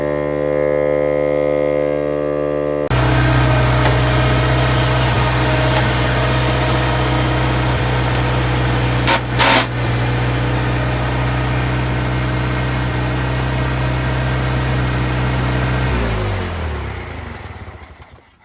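An old Toyota forklift engine runs loud and close with a steady droning idle, a brief higher burst midway, then winds down and stops near the end.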